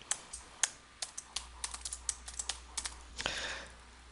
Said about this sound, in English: Highlight the starter letter A in the properties box and type your desired